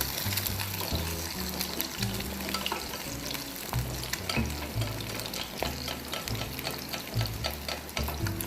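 Backyard chicken eggs fry in oil in a pan, crackling and sizzling steadily up close, with occasional clinks and a low stirring rumble, and no voices.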